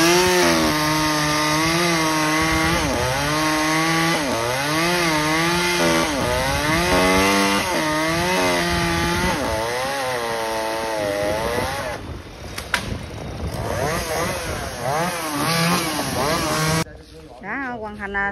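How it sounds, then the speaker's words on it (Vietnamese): Chainsaw cutting a royal poinciana tree wedged between two corrugated metal roofs, the engine droning steadily and revving up and down through repeated cuts, close and loud, before cutting out abruptly near the end. "Cưa thêm một phần nữa hả?"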